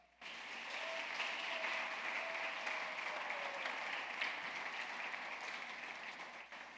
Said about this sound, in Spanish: Denle un aplauso a ellos, por favor.